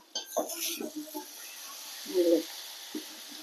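Spoon scraping and clinking against a pot while eggplant masala is stirred, a few short clatters with a louder scrape midway, and a voice speaking briefly at the start.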